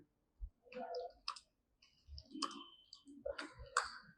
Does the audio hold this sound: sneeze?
no